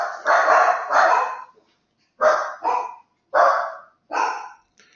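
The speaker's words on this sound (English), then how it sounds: "I guess you can hear my dogs." Dogs bark indoors in a house, with several loud, close barks in short bursts separated by brief silences, with no talk.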